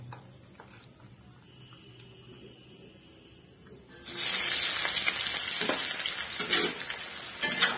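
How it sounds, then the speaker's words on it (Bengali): Medium-sized onions dropped into hot oil with tempered spices, a quiet start giving way to a loud, sudden, steady sizzle that continues closely with crackling. "ফোড়নটা হয়ে গেছে, এর মধ্যে এখন আমি দেব মিডিয়াম সাইজের পেঁয়াজ।"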